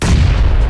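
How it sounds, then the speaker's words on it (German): A single loud, booming blast with a heavy low rumble that fills the moment, close and abrupt, a grenade going off in the video game PUBG on the Sanhok jungle map. "Ich schmeiß mal eine Nade lang."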